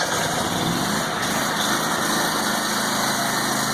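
Miller Trailblazer engine-driven welder running steadily, a loud, close, continuous engine drone with a high whine and no talk over it.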